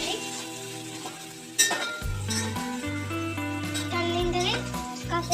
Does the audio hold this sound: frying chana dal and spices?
yes